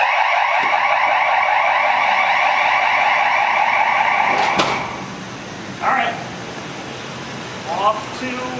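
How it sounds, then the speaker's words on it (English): A school fire alarm at Hicksville High blares loud and continuous with a pulsing tone for several seconds, then cuts off abruptly, leaving room noise, a couple of short squeaks and people talking nearby. "Hey, ready for this alarm?"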